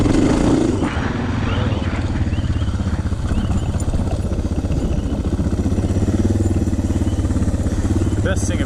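A Suzuki DR650 dual-sport motorcycle rumbles steadily as it rides along a road, its engine drone loud and continuous with a brief roar at the start and wind noise throughout.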